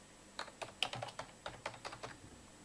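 Someone types a password on a computer keyboard, a quick run of about a dozen light key clicks in an irregular rhythm, close and fairly quiet, with no talking.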